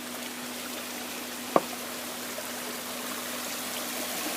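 Water flows steadily through an oxygenation and degassing chamber on a catfish farm in Nigeria, a continuous close rushing hiss with a single sharp knock partway through.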